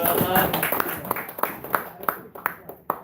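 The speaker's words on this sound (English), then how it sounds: "one more round of applause for the Queen's Shark Championship" Applause from an awards presentation audience fades out, leaving scattered individual claps ringing sharply near the end.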